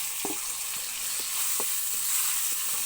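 Chopped tomato goes into chili powder frying in a pan for a banana flower and prawn curry, giving a steady close sizzle with a few soft clicks and scrapes from stirring.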